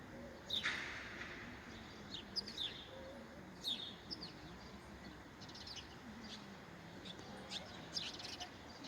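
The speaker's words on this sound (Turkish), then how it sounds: "Kuş seslerini dinlemek bile insanı rahatlatıyor." Scattered bird chirps and short calls, fairly faint, over a steady outdoor background hiss.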